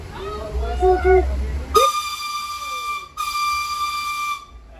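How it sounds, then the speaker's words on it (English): Two loud, sustained steam-style warning whistles blast before a roller coaster launch at Knott's Spooky Farm, close and piercing, the first preceded by a voice making an announcement. "there will be 2 loud whistles momentarily"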